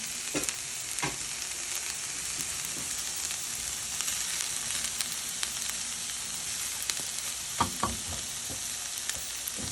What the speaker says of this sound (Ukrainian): І все воно буде обсмажуватись разом